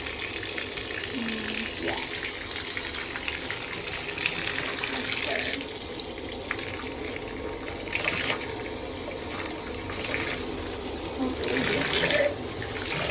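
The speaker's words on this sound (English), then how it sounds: "put on some cold water." Cold water runs steadily from a tap while hair on a 613 wig is rinsed, a loud continuous gush with some splashing shifts, and a voice speaking briefly over it.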